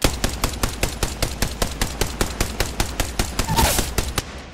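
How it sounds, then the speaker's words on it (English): Rapid automatic gunfire in a video game, a steady burst of about twenty evenly spaced shots over several seconds, loud and close, with no talk over it. "Getting shot at."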